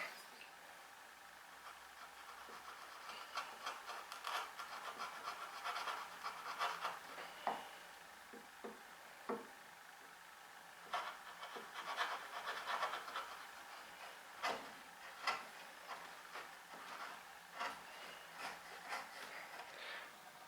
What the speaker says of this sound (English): I'm just paring towards the middle from my knife line